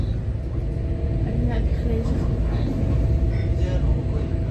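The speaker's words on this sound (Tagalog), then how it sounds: "Nandito kami sa train." A train rumbles along during a ride, a steady low roar with rattling carriage noise throughout, while people talk over it inside the car.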